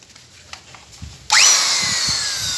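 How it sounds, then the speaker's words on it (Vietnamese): A Hitachi 100V electric drill sits idle under faint background noise, then whirs up sharply and runs loudly and steadily to the end, close by. "Số 5, một con khoan Hitachi."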